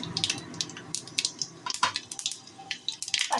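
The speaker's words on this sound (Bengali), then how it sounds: "তেলে দিয়ে দিলাম পাঁচফোড়ন।" Panch phoron, a five-spice seed mix, dropped into hot oil in a pan, crackling and spitting in a rapid irregular patter of sharp pops, close and fairly loud, with no speech.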